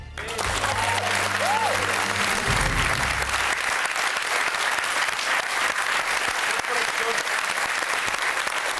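Studio audience on a British game show breaks into loud, sustained applause that fills the room, with a brief voice and low tones under its opening seconds.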